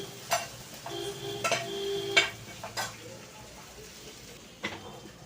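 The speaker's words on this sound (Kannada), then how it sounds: "ನಾನು ಟೊಮೆಟೊನ ಇಲ್ಲಿ ಒಗ್ಗರಣೆಯಲ್ಲಿ ಬೇಯಿಸ್ಕೊಳ್ತಾ ಇದ್ದೀನಿ" Tomato quietly sizzles in a tempering in a pan, broken by a few sharp metallic clinks and scrapes of a spoon stirring, with no talking.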